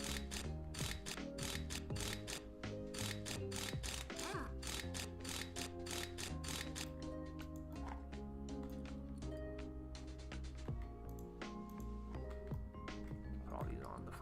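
Rapid ratchet clicks tighten bolts on a tank's final drive housings in Tank Mechanic Simulator, a steady mechanical ratcheting that runs over continuous background music.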